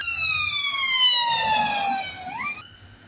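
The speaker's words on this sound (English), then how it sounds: "Just bear with me while this ambulance goes past." An ambulance siren wails loudly with steady falling tones in Leeds, then pitches drop and fade as the vehicle passes and moves away.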